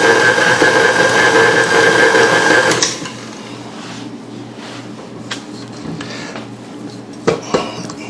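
An electric mixer whirs loudly and steadily through keto dark chocolate cookie dough for nearly three seconds, then cuts off, leaving quiet kitchen sounds and a few light clinks.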